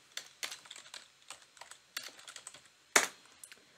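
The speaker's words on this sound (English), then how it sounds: "And I can just type, hello, I am typing on my YouTube live stream." Typing on a computer keyboard during a live stream setup, close-up clicky keystrokes in irregular bursts with short pauses and one sharper, louder key hit near the end.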